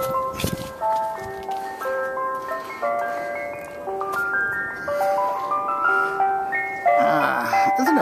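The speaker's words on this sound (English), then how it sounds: "There's an ice cream truck coming." Ice cream truck jingle plays loudly as a bright, repeating chime melody of steady notes, rising into a busier flurry near the end, with faint background noise and no clear talking.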